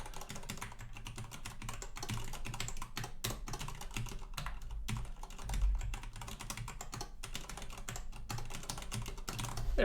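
Steady run of computer keyboard typing, quick irregular keystrokes clattering close up for the whole stretch, with a slightly louder burst partway through and no talking.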